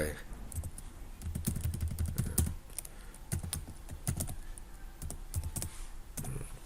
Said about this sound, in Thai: แล้วผมก็พิมพ์ รหัสผ่านเข้าไป